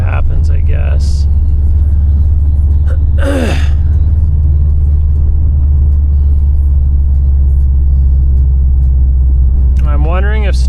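A 2018 Subaru STI engine runs steadily through a loud, continuous low rumble and drone for the whole stretch, with short breathy bursts and a faint voice-like sound near the start and end.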